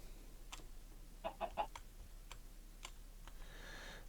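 Minecraft chickens clucking in the video game, a few soft, short clucks and clicks spaced irregularly, faint over a quiet background.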